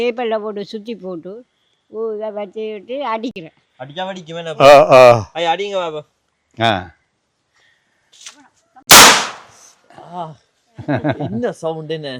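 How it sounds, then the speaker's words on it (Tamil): A firecracker goes off at an elderly couple's home with one sharp, loud bang that cuts through people chatting, while talk and a chuckle continue on either side. "இப்போ வெடி ஒன்று வெடிக்க போகிறார்"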